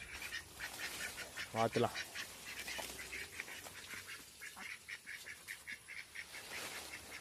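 Ducks quack repeatedly in a rapid, chattering series nearby, while a person talks intermittently over the flock.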